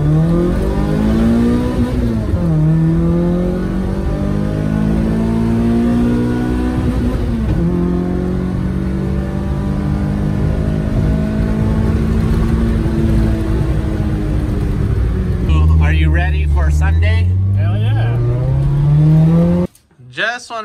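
A Toyota AE86 with a 4AGE 16-valve engine, just back from a DIY valve lapping job, is revved hard. The engine sits close and loud, rising and falling in long sweeps, and voices come in near the end.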